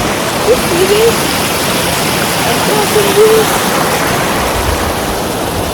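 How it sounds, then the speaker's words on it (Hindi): A mountain river rushes below Rupin waterfall on a high-altitude trek, a loud, steady broadband roar of flowing water with a couple of faint voices briefly audible beneath it. "यहाँ से नदी बह रही है।"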